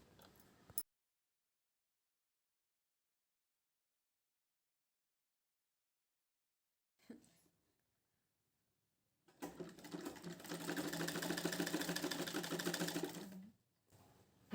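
Sewing machine stitching frills onto a girl's lehenga, running in one long steady burst of several seconds after a brief start and long pauses, close and fairly loud with no talk.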